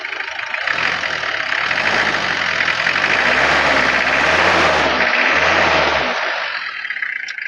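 A 1995 Isuzu Panther with a 2.3 diesel engine revs up from idle and holds, a loud, steady close diesel drone with a rough knocking clatter that settles back down near the end.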